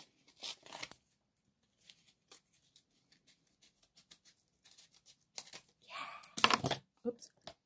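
Scissors snip around mail packaging in a quiet room, with sparse short cuts and rustles early on, then a louder burst of crinkling and snipping near the end, with no talking over it.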